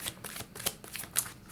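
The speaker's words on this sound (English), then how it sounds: "When I'm shuffling, sometimes you will see cards literally fly out of the deck." Oracle cards are shuffled by hand, producing a quiet series of crisp riffling snaps and flicks at an irregular rhythm close to the microphone.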